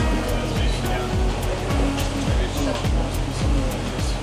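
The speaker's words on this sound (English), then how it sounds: "the waves are all coming from the side, which makes the ride really uncomfortable" Waves slap the side of a solar yacht at sea in a loud, churning wash with regular surging thumps about twice a second, close and continuous, with some talk mixed in.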